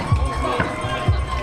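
A rowdy crowd at a Major League Pickleball match in San Clemente keeps up a steady, dense din, with a couple of low thumps rising out of it.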